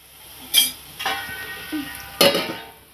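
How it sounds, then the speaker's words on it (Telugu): Boiled eggs are added to a curry frying in a pan with dried fenugreek leaves, giving a low steady sizzle. A few clear knocks and scrapes of the eggs and spoon against the pan cut through it. "ఆ ఎగ్స్ని నేను వేసేసుకుంటున్నాను త్వరగా"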